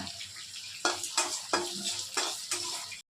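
Black cumin and dry red chillies fry in hot oil, a steady sizzle broken by five or so sharp scraping stirs at regular intervals, close and fairly loud.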